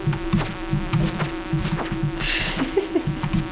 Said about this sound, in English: Yep, there's too many bees. I'm leaving.